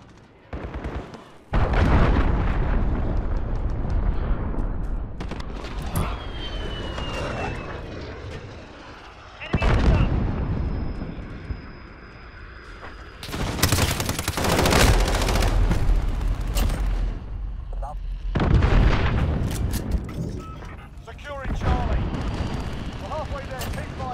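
Heavy cruise missile blasts and gunfire in Call of Duty Modern Warfare multiplayer, with loud booming explosions and rumbling impacts layered with shooting and in-game voice callouts.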